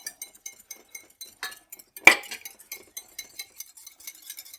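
A whisk ticks rhythmically against a bowl as broth is beaten into an egg-lemon mixture for Greek avgolemono chicken soup, quick light clinks with one louder pour-like splash midway.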